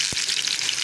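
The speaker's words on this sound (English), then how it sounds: "I will fry the onion till they turn light golden in color." Sliced onions fry in about 3/4 cup of hot oil, giving a steady, bright crackling sizzle close by with one short low thump near the start.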